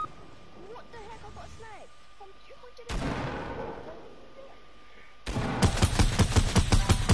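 Video-game sniper fire sounds after a calmer stretch: one loud gunshot crack, then a dense burst of rapid, close gunfire with sharp repeated reports near the end.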